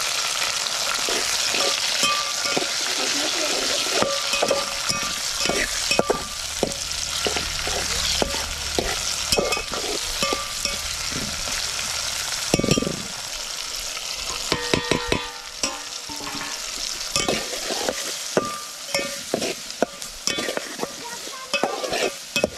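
Tomatoes with onion frying in a pan, stirred again and again with loud, repeated scraping strokes over a steady hiss and sizzle, close and continuous for the whole stretch.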